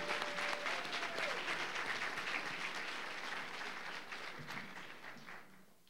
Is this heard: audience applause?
yes